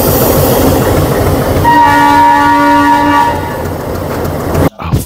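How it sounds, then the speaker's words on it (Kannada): Ooty toy train hauled by a steam engine pulls away on the Coonoor line, a loud rumbling roll with a sustained horn or whistle blast in the middle, ending with a brief dropout and clatter. "ಊಟಿ ಹೋಗ್ತಾ ಇದೆ ಟ್ರೈನ್ ನೋಡಿ, ಗ್ರೀನ್ ಫ್ಲ್ಯಾಗ್ ಹಸಿರು ಫ್ಲ್ಯಾಗ್ ತೋರಿಸಿದ್ರು."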